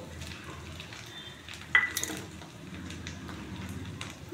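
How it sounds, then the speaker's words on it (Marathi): Crushed peanut powder tipped into a pan of methi bhaji, a faint quiet scrape and clink of a utensil with a brief sharper tap midway against low kitchen background. "आता आपल्याला दाण्याचं कूट टाकायचं आहे"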